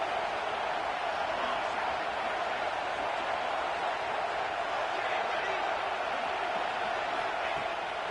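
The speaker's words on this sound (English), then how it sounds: "this crowd is at fever pitch" Football stadium crowd at a Clemson vs Pittsburgh game roars steadily through a third-down play in the red zone, a loud, continuous wash of cheering with no pauses.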